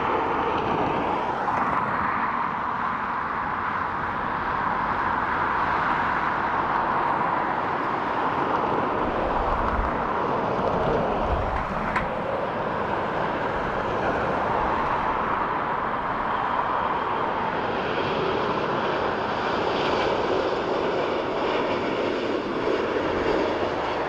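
A KLM Embraer E195-E2 airliner at Dublin Airport gives off its distinctive 'Wookiee' engine growl, a continuous, broad, roaring drone that holds steady for the whole stretch at a moderate distance.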